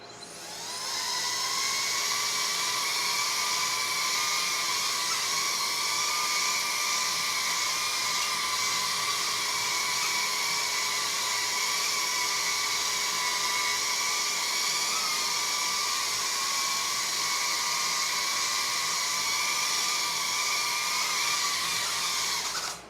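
Tiny 75mm Tiny Whoop drone motors spinning up for take-off, a steady high-pitched whine close to the microphone that holds constant throughout.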